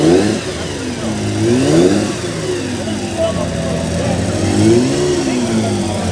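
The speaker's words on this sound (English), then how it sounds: "So loud, very vocal 6-cylinder ERA engine" A 6-cylinder ERA vintage racing car engine revs up and down repeatedly nearby at a hillclimb meeting, loud and rising and falling in pitch in several surges.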